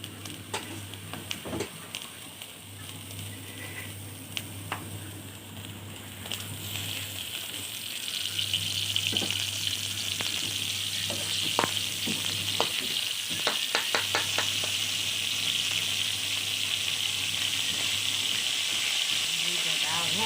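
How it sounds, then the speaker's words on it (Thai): Vine grubs dry-roasting in a pan with no oil give a steady close sizzling hiss, with scattered sharp crackles and stirring scrapes that cluster more densely toward the end, over a low constant hum. "คั่วทอดทอดกันเลย ยังไม่ใส่น้ำมัน"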